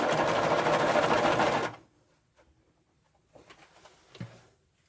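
A sewing machine runs in a loud continuous whirring burst of stitching for under two seconds, then stops, leaving quiet with faint handling clicks and a small knock; no one speaks.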